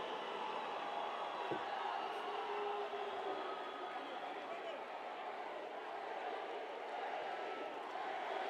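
Football fans roaring in Estadio Rommel Fernández, a dense, continuous crowd din of chanting and shouting that stays steady and fairly distant throughout, with a faint whistle-like tone rising briefly early on.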